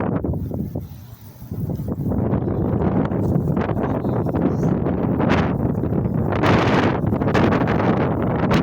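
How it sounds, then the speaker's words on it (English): Strong wind gusts across a snowy winter riverbank, a steady roaring buffet against the microphone with rustling, dipping briefly before surging back, no one talking. "Whoa, windy."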